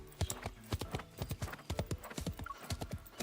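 A horse gallops through a city street, hooves clip-clopping in a fast steady rhythm of sharp close knocks, with a brief whinny-like squeal partway through.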